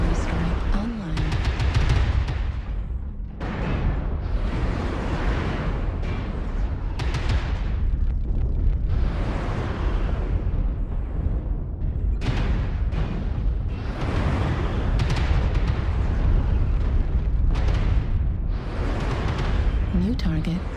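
A long, continuous barrage of booming blasts from an artillery strike in the mech combat game MechWarrior Online rolls on with dense low rumble, some strikes standing out louder, while a voice speaks over it.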